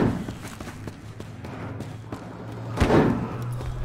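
A frag grenade goes off in Battlefield Hardline on the Dust Bowl map: a dull thump lands near the end, amid scattered thuds, footsteps and gunplay in a busy close-quarters match.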